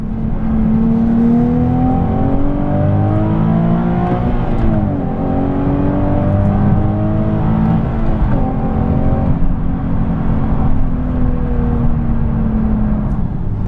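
Nissan 370Z GT Edition with a 3.7-litre naturally aspirated engine accelerating hard. Loud, close engine note climbs steadily in pitch through the gears, with brief dips at each shift, and no talk over it.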